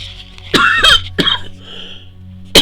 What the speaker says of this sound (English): No, just coughing.